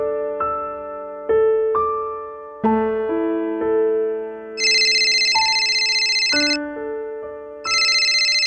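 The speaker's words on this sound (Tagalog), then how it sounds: "May tumatawag." Cellphone ringing with an incoming call, a melodic electronic ringtone of stepped tones punctuated by bright buzzing bursts, loud and close, repeating without any talk.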